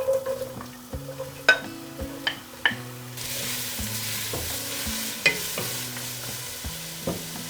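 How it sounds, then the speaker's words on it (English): Onions, garlic and carrots hit hot oil and sizzle steadily while a utensil stirs and taps against the pan, over soft background music. "Garlic and onions in hot oil"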